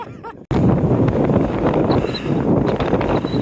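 Strong gusts roar across a mountain summit, buffeting the microphone with a loud, continuous rush after a brief quieter moment at the start.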